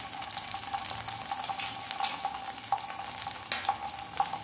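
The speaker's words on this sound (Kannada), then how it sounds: "ಶುಂಠಿ ಬೆಳ್ಳುಳ್ಳಿ ಪೇಸ್ಟ್ ಒಂದೊಂದು ಸ್ವಲ್ಪ ಫ್ರೈ ಆಗಲಿ" Ginger garlic paste fries in a pan for masala macaroni, a soft, steady sizzle with light crackles and a few sharper ticks near the end, fairly quiet and close, with no one talking.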